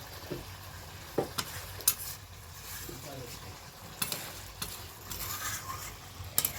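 A pea mixture goes into a frying pan and sizzles faintly, with soft stirring scrapes and a few sharp clinks of utensil against the pan, quiet and without voices.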